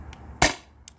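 A single sharp air rifle shot fired over a chronograph on a warm day, one loud close crack with a brief decay and a faint click before and after.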